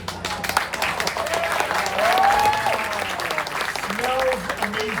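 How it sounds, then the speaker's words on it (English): A small audience gives scattered, half-hearted pity applause during a cooking show set in the Everglades, with continuous clapping running about five seconds and faint voices murmuring underneath. "More pity applause."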